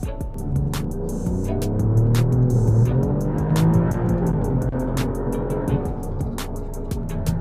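Alfa Romeo Giulia Quadrifoglio engine runs under load with a steady, loud exhaust rumble and rising revs, a rapid ticking pattern riding over the throaty drone throughout.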